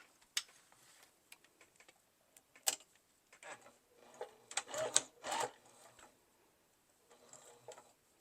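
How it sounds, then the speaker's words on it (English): A home sewing machine stitches a coin purse seam at a 2 stitch length, with a back stitch before the corner. It is heard as soft, intermittent bursts of fast ticking and whirring between quiet pauses, recorded fairly close. "I'm going to start right before the corner, back stitch, and sew all the way around."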